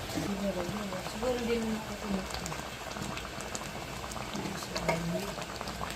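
Roast beef sauce boils hard in a pot, giving off a steady close bubbling and popping throughout, with a voice in the background.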